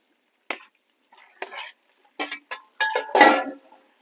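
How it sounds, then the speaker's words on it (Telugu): Chicken with ginger-garlic paste, onions and green chillies being stirred in a pot for a chicken biryani, giving a few separate scraping, clattering bursts of spoon against metal with short pauses between them, close and fairly loud with no talking. "బాగా కలిపేద్దాం"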